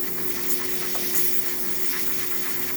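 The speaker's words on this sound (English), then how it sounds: "we're having nice steady steam coming out of the one, looking great" Steam hisses steadily from the wand of a Quick Mill Silvano espresso machine with a new heating element, a continuous close airy rush over a low steady machine hum, with a few brief spurts.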